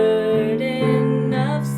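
Piano walk-up in the bass on the last two beats of a measure in the hymn There is Power in the Blood, sustained chords with the low notes stepping upward, loud, close and clear with no talking.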